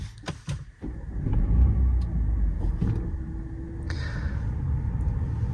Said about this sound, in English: Right, so I'm gonna start the car